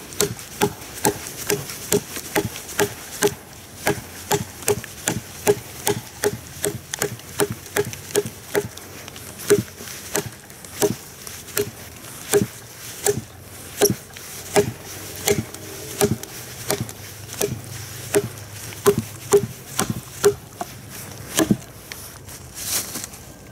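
A TOPS M4X Punisher knife strikes heavy chops in a steady, evenly spaced rhythm of sharp, close thuds repeating for over twenty seconds, with no talking.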